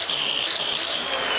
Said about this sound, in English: So I'm going to flatten it with this power sander